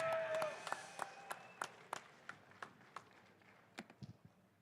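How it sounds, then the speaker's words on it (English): Scattered clapping from a small crowd at a classic car auction right after a Pierce Arrow is sold, individual claps sharp and uneven against a hum of room noise, sparse rather than a full ovation. "Give a big round of applause."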